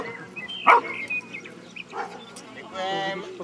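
A German pinscher, a small dog likened to a little Doberman, gives a few short barks and yips at an outdoor children's day dog show, mixed with a voice announcing and background crowd noise.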